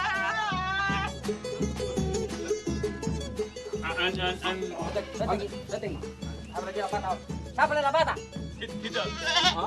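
A goat being caught with a rope in Santiago de Cuba bleats repeatedly in loud, wavering cries, mixed with people talking close by.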